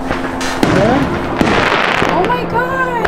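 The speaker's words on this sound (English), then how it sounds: "You can probably hear the fireworks in the background." Fourth of July fireworks crackle and pop repeatedly with sharp bursts and whistling streaks, while people talk and exclaim nearby.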